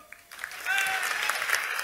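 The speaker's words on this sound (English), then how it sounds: "quickly give a round of applause for the jury members" An audience at a Nordic game awards ceremony applauds the jury members, clapping swelling in after a brief voice and holding steady.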